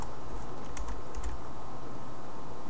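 A short flurry of clicks from typing on a computer keyboard in a quiet room, faint and near, clustered in the first second and a half before tapering off over a low background hum.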